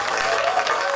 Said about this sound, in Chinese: 我们再给龙生里一个掌声